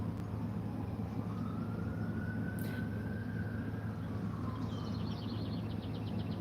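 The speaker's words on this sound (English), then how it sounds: "And there go the sirens." An emergency vehicle siren wailing outside, distant and faint, with a slow rising and falling tone over a steady low background rumble.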